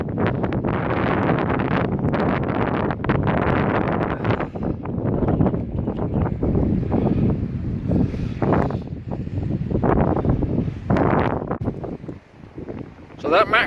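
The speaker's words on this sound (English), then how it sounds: "It's a bit windy, but at least it's blowing behind me." Strong wind buffets the microphone during sea fishing for mackerel from the shore, a rough continuous roar that swells and eases over the whole stretch.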